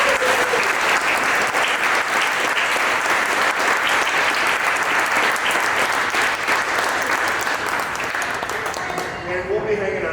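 A crowd at a live question-and-answer event breaks into loud, sustained applause that fills the room and carries steadily before tapering off at the end.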